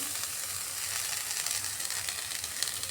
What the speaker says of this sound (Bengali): গ্যাস জ্বালিয়ে একটা কড়াই বসিয়ে দিয়েছি এর মধ্যে কুমড়ো পাতাগুলো দিয়ে দিচ্ছি প্রথমে